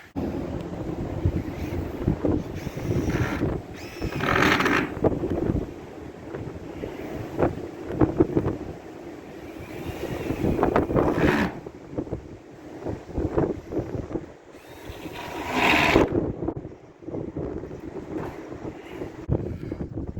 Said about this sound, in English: you can see from the trees, it's just crazy, this wind